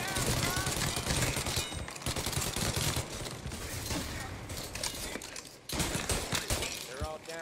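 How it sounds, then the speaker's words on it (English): Rapid bursts of gunfire from a shootout in the video game Mafia Definitive Edition, dense overlapping shots and machine-gun rattle with breaking and shattering, loud and near, with voices talking under it. "Full on gun shootout."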